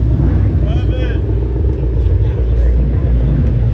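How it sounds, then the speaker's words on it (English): A new Ferrari Roma drives out at a car collection event, its engine a steady low rumble that stays constant throughout, with crowd chatter and voices over it. "Got a new Ferrari Roma heading out."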